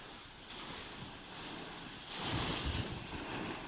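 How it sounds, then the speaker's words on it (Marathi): Water released from the full Nazare dam at Jejuri into the Karha river, a continuous broad roar of rushing flow, moderately loud and steady, swelling somewhat stronger toward the end, with no voices. "धरण पूर्ण क्षमतेने भरल्यामुळे कऱ्हा नदीपात्रात पाण्याचा विसर्ग सुरू करण्यात आलाय"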